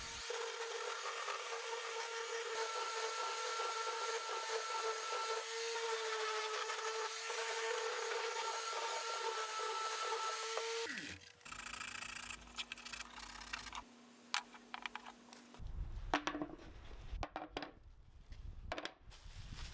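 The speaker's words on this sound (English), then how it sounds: "here I go from 120 to 220 grit sandpaper, making a nice surface" Purpleheart and ash wood are sanded with 120 to 220 grit sandpaper, a steady close rasping hiss for about eleven seconds, followed by quieter scattered scrapes and light knocks.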